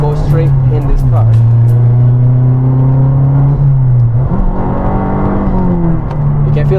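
Turbocharged Mazda3 MPS engine accelerating hard from inside the car, a loud sustained droning note that climbs steadily, drops at a gear change around one second and another near four seconds, then pulls upward again.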